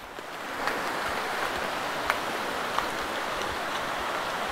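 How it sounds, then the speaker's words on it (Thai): Steady light drizzle patters continuously with a soft broadband hiss at the source of the Nan River in Thailand, a few slightly sharper drops standing out now and then. "ฝนก็ยังพรำๆยังไม่หยุดดี"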